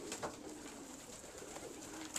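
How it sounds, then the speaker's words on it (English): Soft, low pigeon coos repeat close by in a quiet setting, a few gentle rolling calls with no talking. "these are really a great bunch of pigeons right here"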